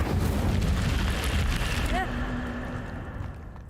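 A fire spell, Incendio, is cast in a video game, giving a loud, sustained roaring burst with rumbling body and a brief rising whoosh in the middle that slowly fades toward the end.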